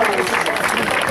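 Audience applause at a festival, a brief burst of dense clapping that fills the moment.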